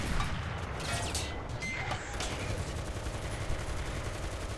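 Gunfire in War Thunder rattles over the steady rumble of an M4A2 tank engine, with bursts of shots striking the tank amid a dense, continuous battle din.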